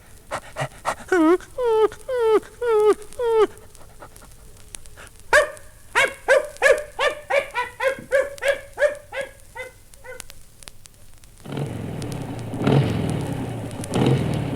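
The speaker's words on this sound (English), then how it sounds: "You say when you think the dog will bark again." A dog barks repeatedly in bursts, some quick and rhythmic, with panting between, close by; a car passes and a voice speaks over the dog.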